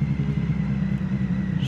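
A Triumph Street Triple with an SC Project exhaust, its engine check light on, gives off a steady, close, deep rumble with no revving.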